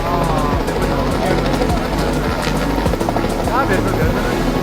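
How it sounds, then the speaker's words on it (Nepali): A rescue helicopter flying low over a flood on the Bhotekoshi river, its rotor beating in a fast continuous chop throughout, with voices talking underneath. "माथि छतमा फसेको एउटा बच्चालाई चाहिँ हेलिकप्टर आएर उद्धार गर्दैछ"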